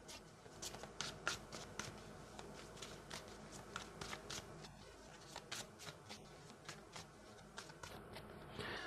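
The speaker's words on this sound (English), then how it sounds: "Let me just pull some mixed emotions card here." Tarot cards shuffled by hand in a steady stream of quick riffling snaps and soft slaps, followed by cards being drawn, close and clear with no talking.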